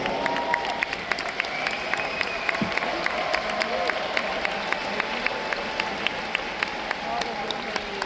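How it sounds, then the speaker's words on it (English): A seminar audience in Budapest gives a round of applause, steady dense clapping with scattered sharper claps and a faint crowd murmur underneath, moderately distant and continuous for the whole stretch. "Can we once again please give Carmen from Germany a big round of applause?"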